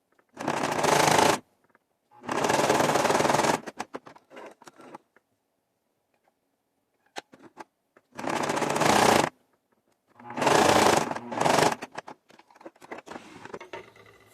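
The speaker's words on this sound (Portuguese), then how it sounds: "E vou fazer uma costura reta dos dois lados." A sewing machine runs a straight seam in four loud, close bursts of rapid even stitching, each lasting about one to one and a half seconds, separated by quiet pauses and faint handling of fabric.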